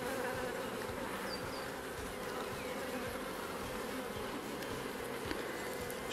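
Honey bees swarming over a beehive frame: a dense, continuous buzzing drone, close and steady for the whole stretch, with no voices.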